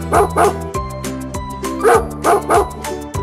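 A dog barks close and loud in a series of short yips and bow-wows, coming in pairs and triplets with brief gaps and a faint whimpering tone between them, over a soft background of cartoon-like music.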